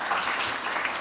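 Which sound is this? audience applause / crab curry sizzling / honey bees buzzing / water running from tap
audience applause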